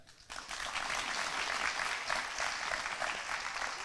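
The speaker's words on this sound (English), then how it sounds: "I'd also like to give a huge round of applause again for our 36 honorable mentions." An audience applauds at a county awards ceremony honoring Jimmy Carter Day, a dense, even clapping that rises quickly and holds steady from start to finish, with no voices over it.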